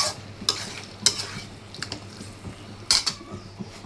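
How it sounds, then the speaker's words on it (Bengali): Chicken stirred and fried in a pot with cooked spices, a soft sizzle under repeated clacks and scrapes of a spoon against the pan, close by with irregular stirring strokes. "এখন এখানে আমি মুরগিটা দিয়ে দিব। এখন দিয়ে ভালো করে এটা নেড়ে চেড়ে একসাথে করে নেব।"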